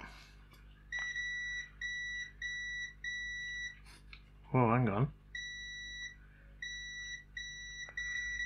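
A SNES Mini gives repeated short, high beeps in steady groups of four, with a brief spoken remark breaking in midway.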